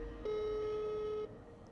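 A single steady electronic tone sounds on a telephone line during an outgoing call. It holds evenly for about one second before cutting off, faint and thin against quiet background hiss.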